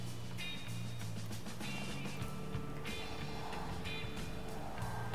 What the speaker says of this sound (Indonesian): Gue denger suara mobil.